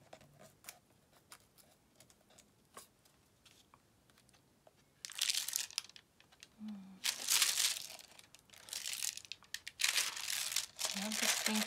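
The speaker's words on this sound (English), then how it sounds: "Crinkly paper." Crinkly cellophane-type paper is handled while decorating bags, with quiet crackles at first, then loud, bursty crinkling and crunching in irregular bursts, close to the mic.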